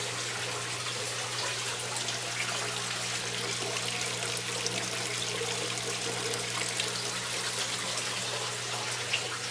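Water trickles steadily through half-inch and quarter-inch feeder lines of a fodder system set up in a shower, a constant dense hiss with a low hum underneath and no talking.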